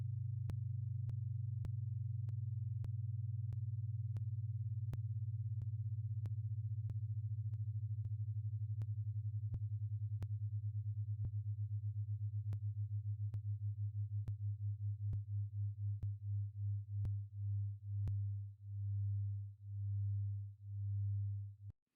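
Two pure sine tones sounding together, their beating slowing from a fast rough flutter into distinct, widely spaced throbs that swell and fade in loudness, steady and alone with no other sound.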